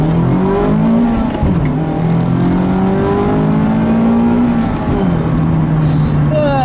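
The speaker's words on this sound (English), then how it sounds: "So I've been driving the 2019 Miata here for several more days now." A 2019 Mazda MX-5 Miata sports car drives hard, its engine revving up and down through several gear changes, loud and close throughout.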